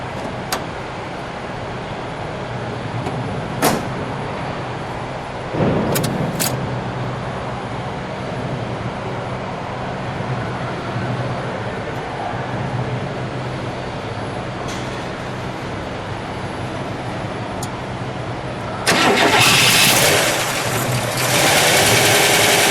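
A bronze 1965 Buick Riviera Gran Sport engine idles steadily at close range, with a few sharp blips of the throttle early on and a louder, rougher surge near the end.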